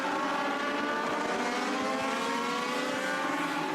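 Race cars roaring around the track at a Thursday Thunder event, a steady, loud engine drone held for the whole stretch with no voices over it.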